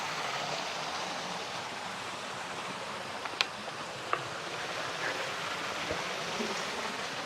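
Water running near the Chellah fortress in Rabat, Morocco, a soft, continuous rushing hiss heard from close by, with a couple of faint clicks and no voices over it.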